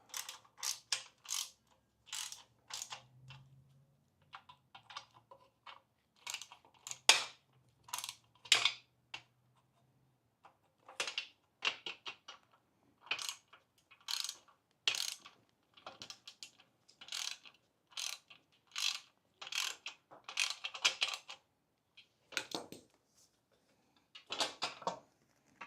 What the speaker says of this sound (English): grab the 10 mil ratchet, should be right up there. Just give these a little snug.